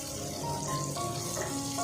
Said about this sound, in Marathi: म्हणजे आता चांगलं परतून घेऊया.